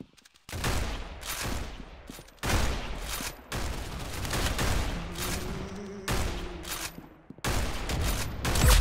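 Rapid bursts of gunfire in the Roblox game Arsenal, loud and close, with several long rattling volleys separated by short pauses and no speech over them.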